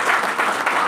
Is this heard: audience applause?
yes